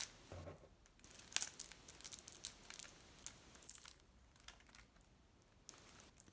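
Detective Conan design packaging being opened and unwrapped, with crinkling and tearing bursts that come close and fairly loud around the middle. Quieter rustling fills the pauses, and no one speaks.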